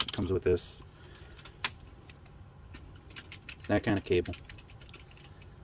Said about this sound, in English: if you hear the keyboard in the background, that's the sound.